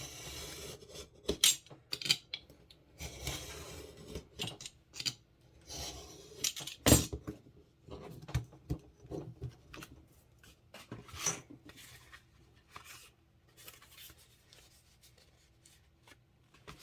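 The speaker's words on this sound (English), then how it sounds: "I'm just going to use my utility knife to cut it down." A utility knife slices through cardstock made from book pages, giving a series of scraping, rasping cuts in irregular bursts with pauses between strokes, heard close and alone.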